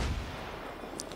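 A single deep boom at the start, a heavy low thud that rolls off into a rumbling tail, with faint crackles near the end, from the video game Far Cry 5.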